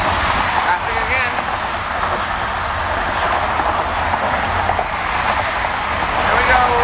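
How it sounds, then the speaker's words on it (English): Steady roar of traffic on the Triboro Bridge between Queens and Manhattan, heard close from a moving vehicle with a constant rumbling drone while someone narrates over it. "You still see the traffic coming up from Queens."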